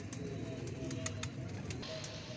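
Pigeons cooing softly at a bird sale, with a low steady murmur of coos under faint background noise and a few brief higher chirps.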